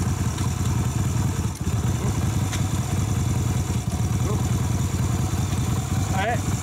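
A motorcycle engine runs steadily just after start-up with a continuous low idle rumble and some mechanical clatter. The sound stays close and even throughout, and faint background noises come through behind it.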